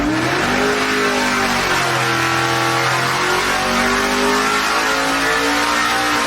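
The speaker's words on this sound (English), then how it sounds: "We're going to dyno Project Pontiac." A Pontiac project car's engine revs hard on a dyno at a racing shop in Emporia, Kansas, its loud, continuous roar rising and falling in pitch through repeated pulls, with no talk.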